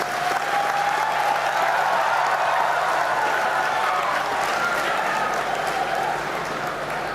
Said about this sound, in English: Let us give a big applause to the leadership and all the graduates